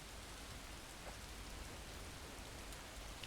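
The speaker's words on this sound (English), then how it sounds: "Oh, rain." Rain falls steadily in the video game Far From Noise, a soft, even hiss of drops pattering on a surface. It stays constant and faint throughout, with no voices.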